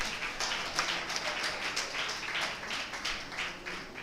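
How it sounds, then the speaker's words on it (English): Audience applause closing a session at a law week conference, steady dense clapping from a crowd sustained for about four seconds with no talking. "So let's give a round of applause."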